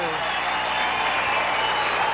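Crowd at a 1979 high school basketball game, Morton Potters against Rockford East on Parents Night, cheers and applauds in a dense, steady roar throughout, with a commentator's voice running over it.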